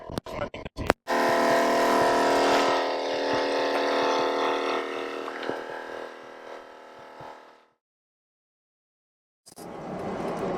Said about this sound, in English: We're disturbing the perfect wilderness with the sound of our air compressor.